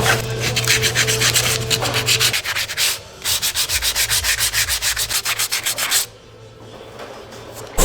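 Dried Bondo body filler being hand-sanded on a roadster's bodywork, close rhythmic rasping strokes in steady quick runs with a brief pause, then silence at the end.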